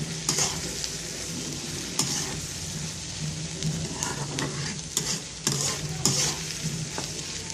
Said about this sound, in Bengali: শুটকিটা আগে একবার ভাজা দিচ্ছি, আবার একটু তেলের সাথে ভাজা দিই